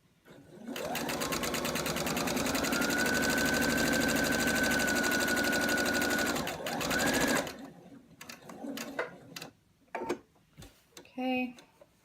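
A sewing machine stitches down a length of a herringbone quilt in a steady, loud, close run for about seven seconds. It then stops, and a few short bursts of handling follow.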